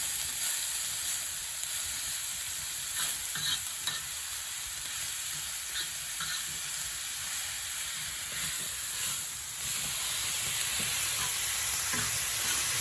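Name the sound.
pork belly sizzling on an iron griddle over a wood fire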